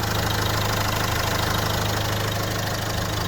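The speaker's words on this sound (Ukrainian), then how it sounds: "Отак працює мотор." A 2018 Renault Master van's diesel engine, rated 125 kW, idles up close with a steady low rumble and a faint rhythmic knock, loud and unbroken with no talk over it.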